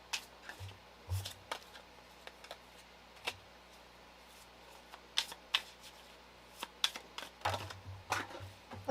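Tarot cards handled and shuffled close by, soft papery slides and sharp flicks coming in irregular bursts against quiet room hush.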